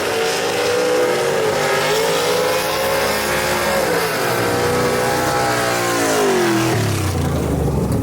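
Gasser drag race car revving loudly at Kil-Kare Dragway, the engine rising and falling in pitch over several blips at close range and then dropping sharply near the end, no voices.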